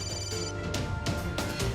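A telephone rings in an indoor drama scene, its electronic ring repeating in a steady rhythm of short tones, fairly loud and without talk.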